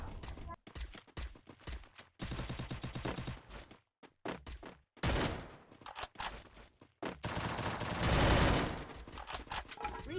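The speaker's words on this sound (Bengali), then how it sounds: "ওই সাইডে অবশ্য দুইটা এনিমি ফায়ার করতেছে" Enemy gunfire in a video game crackles in rapid automatic bursts and single shots, loud and dense, with brief pauses between volleys.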